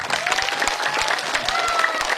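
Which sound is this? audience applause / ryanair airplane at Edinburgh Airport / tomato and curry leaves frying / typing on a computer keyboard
audience applause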